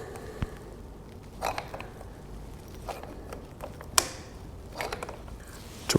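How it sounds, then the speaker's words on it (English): Channel locks squeeze an old brake pad against the rear brake caliper pistons of a BMW R1250 GSA, giving sparse metallic clicks, creaks and ratcheting snaps at irregular intervals, fairly faint and close, without talk. "So I'll take one of the old brake pads, place it in here, and use some channel locks."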